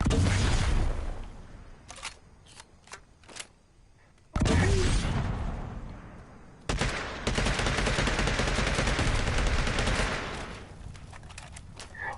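In the video game Predator: Hunting Grounds, a grenade launcher fires: loud bursts of gunfire-like blasts and booms, with sharp separate shots early on, then long dense stretches of heavy firing and explosions.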